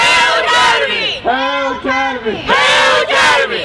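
Columbus Academy's school football crowd chants the Hail Academy cheer, a loud unison of voices in two or three drawn-out shouted phrases with short gaps between them.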